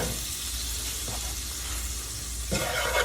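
Vegetable stock hits a hot steak pan and sizzles as it deglazes, a steady broad hiss with small crackles, swelling louder near the end.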